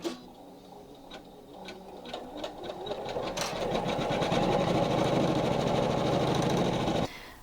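An embroidery sewing machine stitches on felt, beginning with a few ticking clicks, then building into a loud, steady, rapid mechanical whir with a fast stitching rhythm that stops abruptly near the end.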